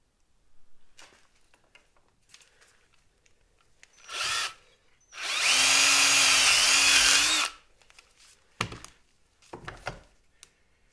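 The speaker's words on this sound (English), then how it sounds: "Should be able to keep drilling in that" A power drill whirs in a steady two-second burst, preceded and followed by brief clunks and short tool noises.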